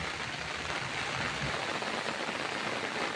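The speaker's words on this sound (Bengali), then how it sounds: "বলতে বলতে আবার বৃষ্টি চলে এসেছে" Steady rain pouring down outdoors beside a fishing spot during a cloudy monsoon spell, a dense continuous hiss with no gaps and no voices.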